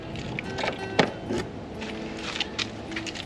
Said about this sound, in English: I have no idea which keys open this, so this could take a while.